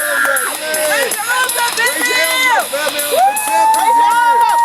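A wrestling crowd cheers on a wrestler in an arena, a dense, loud mass of overlapping shouts, whoops and rising calls that fills the whole stretch without a break.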